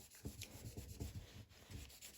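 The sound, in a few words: wiping fan shaft with oiled paper towel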